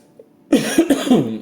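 A short burst of several harsh coughs in quick succession, close and loud, after a brief quiet moment.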